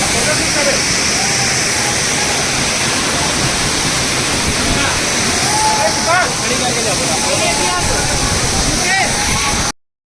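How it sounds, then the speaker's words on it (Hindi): Tirathgarh waterfall near Jagdalpur in Bastar pours down in a loud, steady roar of rushing water, with a voice speaking over it before the sound cuts off abruptly. "झर झर झर झर गिरा थे पानी, ताबड़तोड़ नज़ारा एकदम बेहतरीन प्रकृति के"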